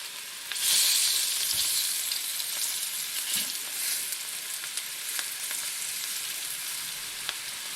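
Food frying in grease in a pan, a loud steady sizzle that flares up near the start and keeps crackling with small pops and occasional stirring, no voices.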